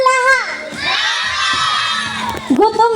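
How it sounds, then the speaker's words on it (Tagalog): Crowd at a live medley performance bursts into loud shouting, whooping and cheering, high excited voices rising and sustained for a few seconds before a single voice cuts back in. "Wala po ba masigabong palakpakan na may kasamang hiyawan dyan?"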